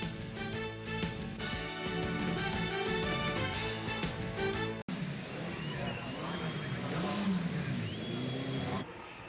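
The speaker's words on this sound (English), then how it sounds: "The cars are on their warm-up lap for round 15 of the Stanek Sackcar Series" Touring race cars, including a Nissan Sentra and a BMW M3, roar past on their warm-up lap at a South African circuit, engines droning and rising in pitch as they go by near and then pull away.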